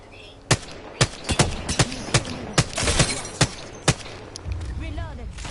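Rapid bursts of gunfire crack through a battle royale video game match, a dozen sharp shots in uneven rhythm, loud and close, with a voice speaking over the fighting.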